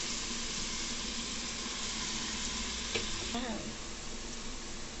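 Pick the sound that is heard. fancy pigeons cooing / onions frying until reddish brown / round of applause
onions frying until reddish brown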